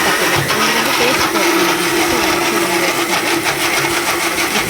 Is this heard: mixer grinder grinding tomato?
yes